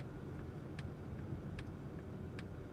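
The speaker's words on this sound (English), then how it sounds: "Oh, listen to this turning signal." Inside the quiet cabin of a 2021 Polestar 2 Launch Edition, the turn signal ticks at an even rhythm over a low road rumble, alternating sharper and softer clicks. No one talks.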